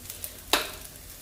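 Mustard seeds for a tempering hit hot reused oil in a home kitchen, giving one sharp burst of crackling sizzle that fades quickly into a low background hiss.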